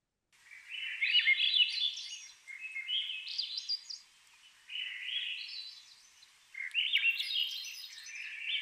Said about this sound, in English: sweet evening song of a Swainson's thrush drowned out all but the faint babble of a creek and the buzz of mosquitoes